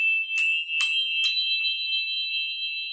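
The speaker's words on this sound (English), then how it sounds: "I'm playing chimes, so you might hear it a little bit in the background." Bright metallic chimes ring out in a few quick strikes, then a long sustained shimmering tone lingers and slowly fades, with no voices.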